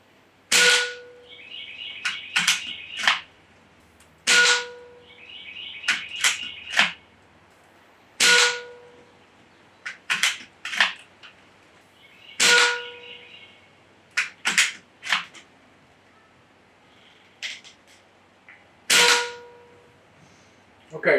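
Sharp pellet shots from an AEA Challenger bullpup PCP air rifle, fired one at a time at irregular spacing, about nine loud cracks. Each has a brief metallic ring and a faint pellet impact after it.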